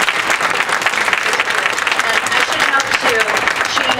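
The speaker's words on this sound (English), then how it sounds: "If we could give one more round of applause for Beth" An audience at a 2014 Women's Appreciation Day reception applauds for Beth, giving a steady, dense, full-room round of clapping that holds at the same loudness throughout.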